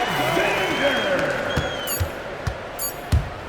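Virtual arena crowd in the NBA 2K26 basketball game roaring and applauding steadily throughout, with a few sharp thuds and an announcer-like voice gliding over the noise.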